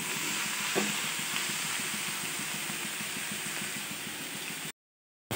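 Potatoes with poppy seed, aloo posto, frying in a pan, a soft continuous sizzle with a faint regular ticking beneath it, steady and close, then cutting off abruptly into silence near the end.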